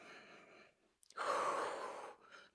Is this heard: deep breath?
yes